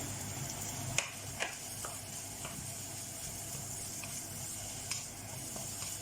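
Minced beef sizzles in a pan over full heat, a steady quiet frying hiss with a few faint clicks and taps of stirring scattered through.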